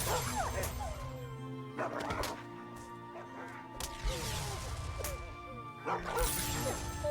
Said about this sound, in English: There's a lot of angry dogs here.